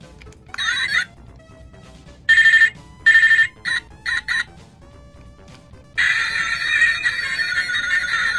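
A bootleg Dragon Ball Z Goku toy phone playing its tinny electronic ringtone-style song in short bursts as a button is pressed, then a longer continuous stretch, loud and close.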